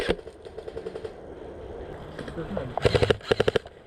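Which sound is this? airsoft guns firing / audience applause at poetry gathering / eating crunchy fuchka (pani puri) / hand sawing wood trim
airsoft guns firing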